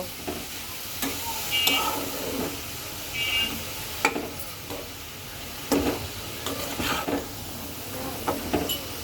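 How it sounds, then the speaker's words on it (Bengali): Vegetable noodles stir-fry in a pan with a packet of noodle masala, giving a soft, steady sizzle broken by scattered utensil scrapes and clinks at irregular intervals, moderately quiet and close. "এখন এটাকে সুন্দর করে ভাজা ভাজা করব"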